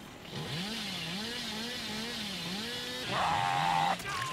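Revving chainsaw of the Hillbilly killer in the survival horror game Dead by Daylight, a steady buzzing engine drone with wavering pitch that grows louder and harsher near the end, heard alone.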